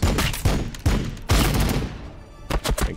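Rapid bursts of gunfire from a battle in the video game Warhammer 40k Battle Sector, Blood Angels campaign, with several loud volleys crackling in quick succession and close by.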